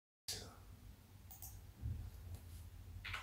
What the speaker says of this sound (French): Je clique, je clique et je glisse.